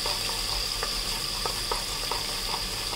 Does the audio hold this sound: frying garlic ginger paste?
yes